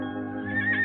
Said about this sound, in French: Voyons, calme-toi, beau cheval blanc